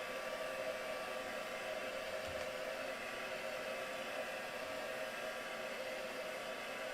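A hair dryer blows steadily on wet craft paint during a vintage Christmas crafting demo, a constant close whooshing hiss that runs unbroken for the whole stretch with no talking.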